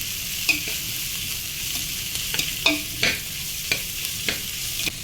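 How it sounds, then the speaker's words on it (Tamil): Chennai street-style mushroom fried rice stir-fried on high flame, a loud steady sizzle broken by repeated sharp scrapes and knocks of a spatula against the pan at an uneven rhythm, with no talking. "ஃப்ரைட் ரைஸில் ஒரு ரெண்டு நிமிஷத்துக்கு மட்டும் ஹை ஃப்ளேமில் வச்சு நல்லா மிக்ஸ் பண்ணுங்கள்"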